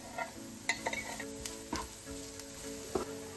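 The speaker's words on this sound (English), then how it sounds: "heat some oil in a pan and add the onions. Then add the garlic." Onions and garlic frying in oil in a pan, a quiet steady sizzle with a few sharp clinks and scrapes of a utensil against the pan scattered through it.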